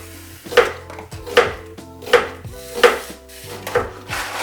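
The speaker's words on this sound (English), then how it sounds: "we just chop the onions into small dices, very small if possible" Onions diced small on a cutting board: six sharp, evenly spaced knife chops, close and distinct, about one every 0.7 seconds, with no voices.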